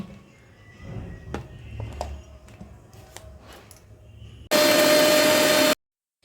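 A kitchen mixer grinder blends a tomato, garlic and pointed gourd paste: a loud, steady motor whir runs for about a second after soft clatter of handling and lid clicks.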